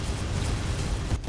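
Heavy laser cannons on destroyers in the space game Empyrean Frontier fire in a loud, roaring blast that fills the brief moment, dense and booming, before cutting off sharply.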